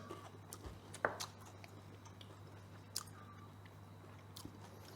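Soft crunching bites and chewing of crusty focaccia bread, a few crisp cracks scattered over a steady low hum, close and fairly quiet.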